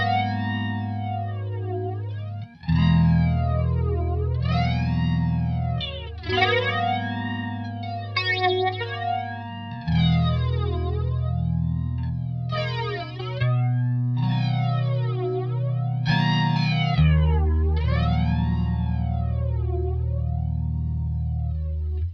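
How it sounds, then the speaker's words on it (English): Clean electric guitar chords ring out through a modified MXR flanger pedal, each strum left to sustain while a sweeping, whooshing jet-like swirl rises and falls across the notes. "when you're using flanger for clean chords, it's best not to play too much and just let it ring out and do its thing"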